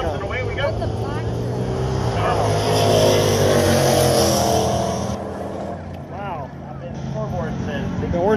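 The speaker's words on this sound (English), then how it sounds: "These are 8th mile drags." Drag racing cars launch on an eighth-mile strip with a loud, rising engine roar that sweeps past and fades, while people talk excitedly nearby.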